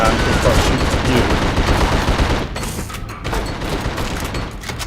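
Dense, loud enemy gunfire in the video game The Suffering, sustained rattling bursts that thin out into scattered shots and a rumbling background after a couple of seconds.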